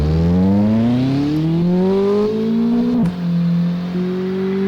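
In a car-destruction video game, a car engine revs up in a rising whine that climbs in pitch, dips sharply around three seconds, then settles into a steady loud drone.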